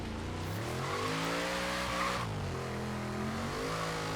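In Forza Horizon 3, a drift-built car with no drift suspension slides sideways in fourth gear, engine droning at high revs with sustained tire squeal and skidding throughout, loud and continuous.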